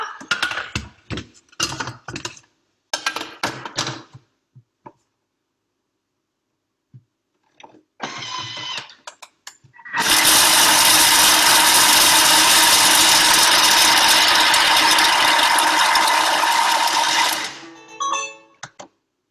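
A Thermomix food processor runs a long, loud steady chopping whir for about seven seconds, blades spinning food finer, preceded by brief clattering bursts and followed by a short rattle as it stops.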